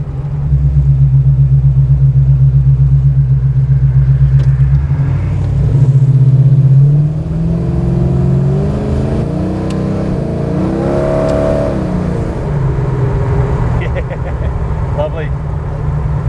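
Engine of a Dodge Charger restomod while driving, a steady loud low rumble that rises and swells with revving partway through, with people talking over it.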